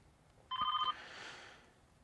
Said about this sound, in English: Oh man, there's my phone.